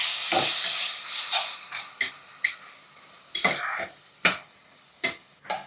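Tomato puree stirred into onions frying in a pan, a continuous bright sizzle at the start that fades, broken by several spoon scrapes and clinks against the pan, up close with no voices.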